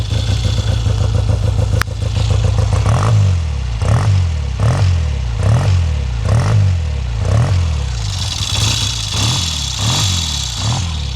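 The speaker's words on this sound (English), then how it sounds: "So the engine's about as quiet as a Triumph engine should be." A 1970 Triumph 650cc Tiger Special motorcycle's twin engine idles loudly up close on choke, with a lumpy, rhythmic pulse of regular thumps and some mechanical clatter.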